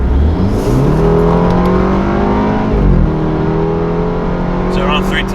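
A BMW 330i F30 fitted with a performance intake accelerates hard on a cold day. The engine note climbs loud and close through a rising rev, dips at a shift, then pulls up again.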